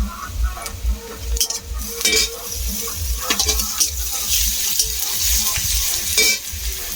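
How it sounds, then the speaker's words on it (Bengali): Onion, crushed garlic and green chillies frying together in a pan, a loud close sizzle with repeated scraping stirs and utensil knocks throughout. "সবগুলো একসাথে ভেজে নেব"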